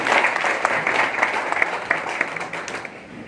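Audience applauding to welcome a guest at a cow shelter gathering, steady mid-distance clapping for about three seconds that thins out toward the end.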